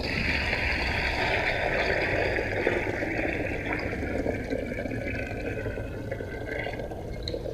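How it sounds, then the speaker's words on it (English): Water runs and pours steadily into a concrete tank sealed with a waterproofing product, a continuous moderate rushing and splashing with no talk over it. "I'll just whack some water in that to show you how effective the product is"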